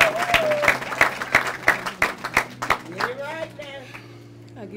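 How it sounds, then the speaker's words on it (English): Wedding guests clap in a steady rhythm of sharp, distinct hand claps during a ring exchange, while a voice with a tonal, sung or chanted quality carries on over the clapping. "It's a clap moment."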